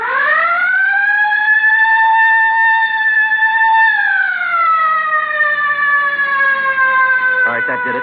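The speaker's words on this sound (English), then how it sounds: "All right, hit the siren." A police car siren wails loud and close in a long rising-and-falling tone that sweeps down midway, with a brief rapid warble near the end.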